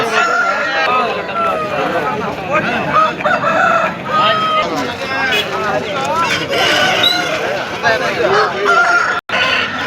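A rooster crows amid a busy Sunday fowl market in Peeleru where fighting cocks are traded, with other birds clucking and a goose-like honk. Steady crowd noise and nearby talk run throughout.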